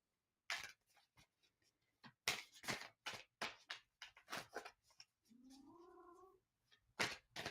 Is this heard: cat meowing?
yes